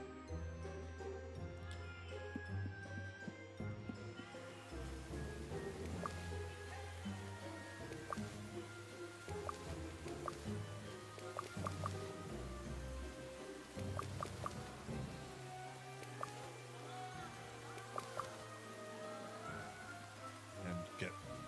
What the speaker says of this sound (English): And it's raining, so I don't have to worry about watering.